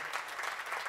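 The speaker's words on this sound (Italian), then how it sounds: "un applauso pure a loro" Audience at a national literary prize ceremony in Trecastagni claps steadily, a moderately faint, even patter of many hands with no voices over it.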